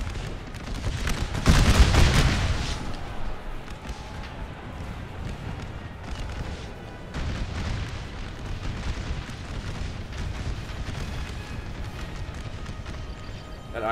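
Infantry rifle volleys in an American Civil War battle game at Cedar Creek: a loud, dense burst of gunfire near the start, then a continuous rumble of scattered shots and battle noise that holds steady to the end.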